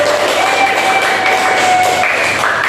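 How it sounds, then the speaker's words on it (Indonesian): A classroom of elementary pupils claps for a group during a Pancasila civics lesson, steady applause with faint tonal whistles or squeaks drifting over it. "Tepuk tangan untuk kelompok 1"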